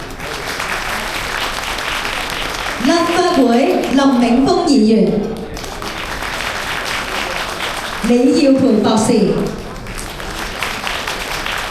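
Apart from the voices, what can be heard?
warm applause welcoming guests at a banquet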